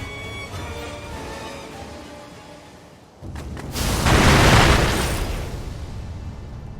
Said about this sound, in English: Celebratory fireworks.